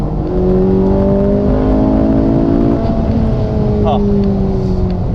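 A Ferrari 458's naturally aspirated V8 revs loudly from inside the cabin with the windows up. The pitch climbs and falls in smooth sweeps and holds a sustained mechanical roar for several seconds.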